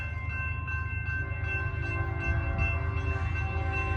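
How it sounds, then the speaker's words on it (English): A random train passing near a historic site, a steady low rumble of wheels and cars with sustained tonal hum, continuous and fairly close, with no talk over it. "Y'all want a random train?"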